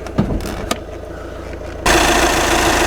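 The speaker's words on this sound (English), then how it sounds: "The engine is a 2-litre turbo diesel." A 2012 Audi A5 Sportback's 2-litre turbo diesel engine idles with a low rumble, then revs up sharply and stays loud and steady.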